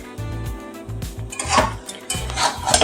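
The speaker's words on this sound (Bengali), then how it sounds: "আর সামান্য একটু কষিয়ে নিচ্ছি" Mutton keema with potato and jackfruit stirred and sautéed in a pan, a spoon scraping and clinking against the metal in repeated strokes over a soft sizzle, close and moderately loud.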